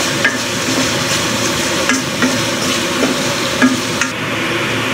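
Spice masala with onion, salt and cardamom fries in a pan for a dried ribbonfish (churi shutki) bhuna, a dense steady sizzle broken by regular scraping strokes of the spatula.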